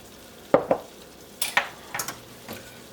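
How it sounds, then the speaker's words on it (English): A spoon stirring bay leaf, cinnamon and nutmeg into a casserole sauce in a pan, several sharp scrapes and clinks spaced irregularly over a low, quiet simmer, up close. "Stir that in"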